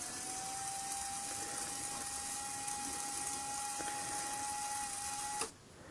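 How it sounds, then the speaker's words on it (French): A small DC motor driven through a Bluetooth relay board runs in reverse, giving a steady whirring hum with a thin tonal whine throughout, then cutting off abruptly near the end. "Marche arrière du moteur."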